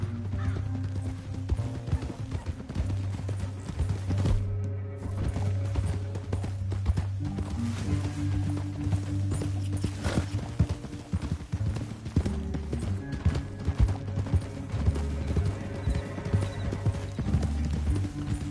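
Horses gallop steadily through a canyon over a full soundtrack, the hoof clatter continuous and fairly loud with a brief whinny in the mix.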